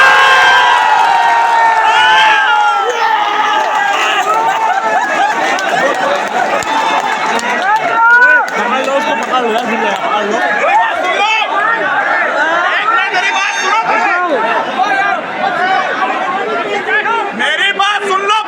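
A crowd at a revenue council meeting chatters and shouts at once, a dense, loud roar of overlapping voices with occasional raised cries that runs steadily throughout.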